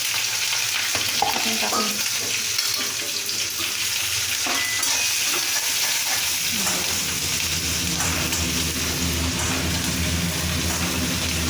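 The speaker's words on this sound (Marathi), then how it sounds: "कढीपत्ता घेते आपलं तेल गरम झालेलं आहे आणि हिरवी मिरची आहे घेतलेली" Green chillies and curry leaves fry in hot oil for a Jalgaon-style vangyachi bhaji, with a dense continuous sizzle that swells into a louder, fuller hiss midway, close and unbroken.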